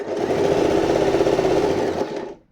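An Usha sewing machine stitches at a steady fast pace with its hand wheel set between 2 and 3, a dense rhythmic motor whir heard close and alone, stopping abruptly near the end.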